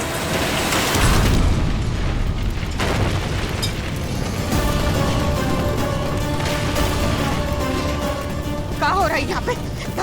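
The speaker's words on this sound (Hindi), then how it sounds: "धमाका कैसा था?" A deep boom from a kitchen fire explosion in a Hindi TV drama, followed by a sustained loud rumbling roar with crackling bursts and dramatic music.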